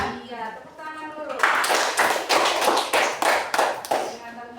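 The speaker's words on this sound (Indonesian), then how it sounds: "Iya, tepuk tangan dulu." Classroom of students clapping hands together in a burst of rhythmic claps after talk from a teacher, loud and close, with a voice speaking before the clapping begins.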